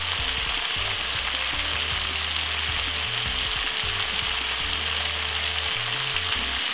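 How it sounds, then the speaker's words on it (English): Dumplings and banana frying in a pan for a Jamaican saltfish meal, giving a steady, even sizzle that carries on without pause for the whole stretch, close and fairly loud with no one talking. "I have some dumpling and banana which is cooking in the meantime"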